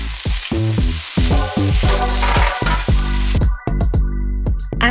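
Mushrooms and garlic stir-fry in a hot pan, giving a loud, continuous sizzle broken by repeated clatters of stirring and tossing. A brief dip comes near the end, then the frying resumes.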